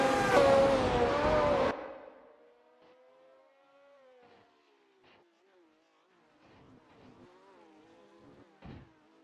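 Hill GH1 race car engine in a racing video game, a loud roar that cuts off sharply and then drops to a faint, thin engine whine that rises and falls, with a few small clicks.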